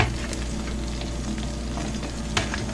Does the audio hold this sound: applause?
no